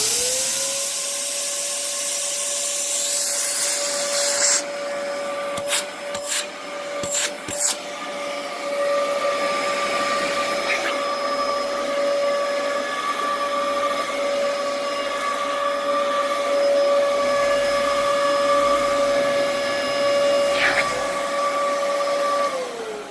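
A 2005 Dyson DC07 Animal vacuum cleaner with a motor in poor condition runs loud and close with a constant high whine over a rushing airflow hiss, steady throughout with a few brief clicks and knocks early on.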